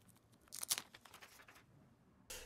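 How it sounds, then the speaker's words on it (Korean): Plastic wrap being peeled carefully off a new LG Velvet smartphone during unboxing, heard as close, soft crinkling and tearing rustles in irregular bursts with a brief louder rip near the end. "비닐을 한번 조심스럽게 벗겨보겠습니다"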